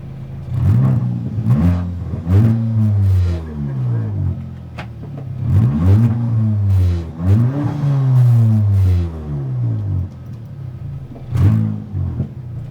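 Race car at Brands Hatch Indy stuck in neutral, its engine revving repeatedly in sharp rising and falling bursts, loud and close, with a driver talking between and over the revs.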